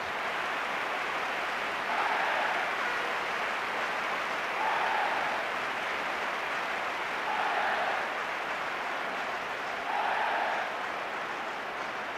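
Stadium crowd at a football video game sends up a steady roar of applause and cheering, swelling in four brief louder bursts over a constant wash of noise, with no voices standing out.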